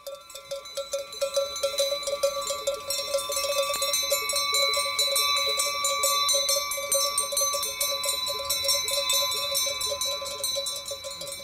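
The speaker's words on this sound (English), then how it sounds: "it's worth listening to the bells again to hear the different sound they're making" Many cowbells clanking continuously and rapidly, a dense overlapping jangle that grows louder and stays busy, as if animals are moving together.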